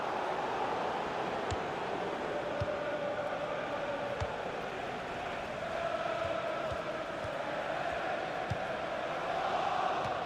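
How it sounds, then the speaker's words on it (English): A stadium crowd in the FIFA 16 football video game roars in a steady, broad wash of cheering that stays constant throughout, with scattered faint thuds. "And the crowd really enjoying it."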